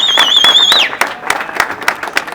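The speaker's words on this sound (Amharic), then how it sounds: "የምንወደውን ተስፉ ብርሃኔን እባካችሁ እስቲ ሞቅ ባለ ጭብጨባ ወደ ቦታው ሸኙልን።" A crowd at an award ceremony for a car prize applauds. A shrill whistling tone opens, then scattered, uneven claps ring out and thin toward the end.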